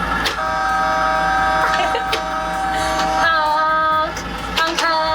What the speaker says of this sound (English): Let's honk the horn.